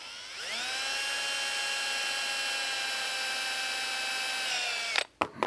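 A power drill whines at a steady high pitch for about five seconds, close and loud, pre-drilling holes during a seal change on a Tilmor 520 tractor, then cuts off abruptly with a couple of short bursts.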